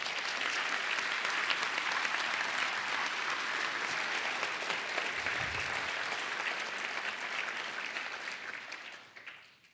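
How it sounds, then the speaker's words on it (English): Sustained crowd applause at a Lakota military commitment ceremony honoring recruits' families, steady and dense for nearly ten seconds before tapering off at the end. "Please give these families a thankful round of applause."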